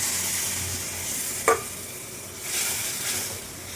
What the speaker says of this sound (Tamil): நல்லா வதக்கிடுங்க. வதக்கிட்டு கரைச்சி வச்சுருக்க புளியை ஊற்றுங்க.